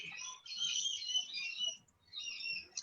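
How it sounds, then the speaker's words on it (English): Birds singing outdoors, a burst of bright chirps and trills continuing for a couple of seconds, pausing briefly, then resuming, moderately close with faint low background noise. "Listen to those birds."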